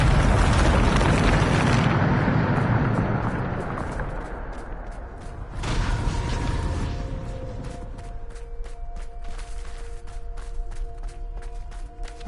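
A Bombarda spell blast bursts loud and close in Hogwarts Legacy, a broad roaring explosion that rumbles and decays over a couple of seconds, followed by a second thump and lingering crackling debris with faint tonal game ambience.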